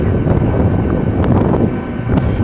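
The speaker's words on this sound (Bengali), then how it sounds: "এই যে কাঁপছে হাওয়াও দিচ্ছে" Sea wind buffets a microphone along the Marine Drive coast between Shankarpur and Digha, a loud, continuous low rumble with gusty fluctuations.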